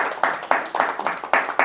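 A small live audience clapping on a talk show, a short run of evenly spaced hand claps, close and fairly loud, with no speech over it.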